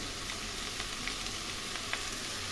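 A large cut onion with ground cumin and coriander fries in a pan, giving a soft, even sizzle with faint crackles scattered through the short stretch, no talking.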